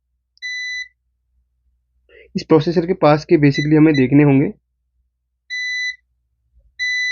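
Continuity beeps from a multimeter probing SMD capacitors on a faulty Free Dish set-top box board: a steady high tone at the start, repeated twice at the end, with someone speaking in between.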